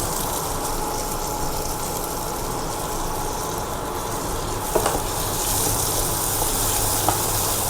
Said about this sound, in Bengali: এবার এটাকে ভেজে নেব ভালো করে